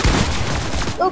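Pump shotgun firing in a video game, a loud close blast amid a dense wash of gunfire, with a voice speaking briefly near the end.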